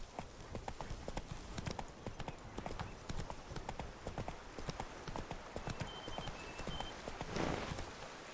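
A horse gallops in the Witcher 3 video game, a fast, steady clip-clop of hooves close by over soft ambient outdoor noise, with no talk.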